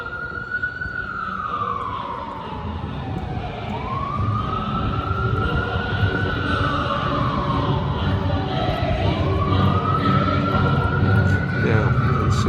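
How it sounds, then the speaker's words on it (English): Ambulance sirens wail through Manhattan streets, rising and falling in long sweeps over steady city rumble, fairly loud and echoing, while someone talks over them. "You constantly, in Manhattan now, hear ambulances, there's sirens, over and over again"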